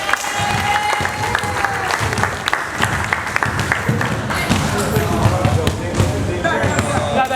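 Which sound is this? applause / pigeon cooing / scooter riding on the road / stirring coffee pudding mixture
applause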